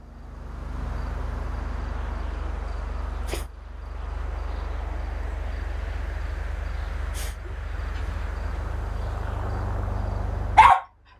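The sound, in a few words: dog barking in video game GTA Online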